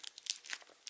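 Plastic wrapping being peeled off a small assembled Yo-kai Watch figure, a few quick, close, faint crinkles and tearing rustles in short bursts.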